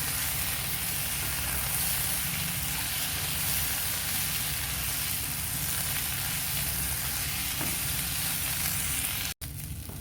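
Kurdai being mixed with vegetables in a frying pan for kurdai bhaji, a constant close sizzling hiss with faint utensil scrapes, ending in a brief dropout near the end.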